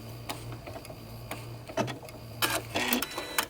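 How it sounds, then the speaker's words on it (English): Home sewing machine finishing a lock stitch, a steady low motor hum with light ticking needle taps, followed by a few sharp clicks and short bursts near the end. "I'm going to hit the lock stitch on my machine"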